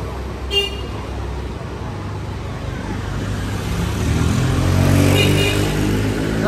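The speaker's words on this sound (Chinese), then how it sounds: "这么多骑摩托车的。" Busy main street in a seaside town in Dianbai County, Guangdong, crowded with motorcycles: a steady roar of engines and passing traffic with a short horn toot, faint voices mixed in.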